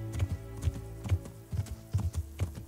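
Hooves of a horse in Kingdom Come Deliverance clop in a steady walking rhythm, close and fairly quiet, with low thuds repeating about twice per second and no voices.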